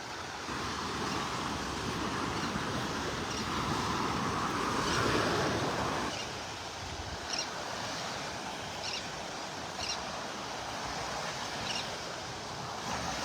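Small ocean waves wash onto a beach in North Naples, Florida, a steady surf hiss with gentle swells and some wind noise, continuous and fairly close, with no voices.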